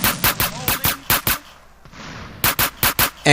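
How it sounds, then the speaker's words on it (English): Rapid pistol fire in Grand Theft Auto: San Andreas, a burst of sharp, loud shots in quick succession, a brief pause, then another quick volley of shots. "I'm using the pistol now"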